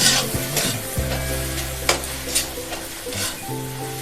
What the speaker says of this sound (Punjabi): ਹੁਣ ਅਸੀਂ ਪਾਵਾਂਗੇ ਜੀ ਇਹਦੇ ਵਿੱਚ ਲਾਲ ਮਿਰਚ ਹਲਦੀ ਜੀਰਾ ਧਨੀਆ ਪਾਊਡਰ ਕਰਾਂਗੇ ਜੀ ਮਿਕਸ